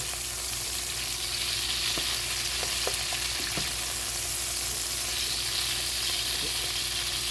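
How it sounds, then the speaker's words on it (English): Asparagus with butter, salt and pepper sizzles steadily in a hot pan, a constant crackling hiss with a few small clicks and taps of stirring. "So now you can hear the sizzling sound as it cooks"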